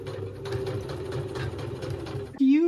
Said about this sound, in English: I sew the first line along the edge here, and the second line along the edge of the foot.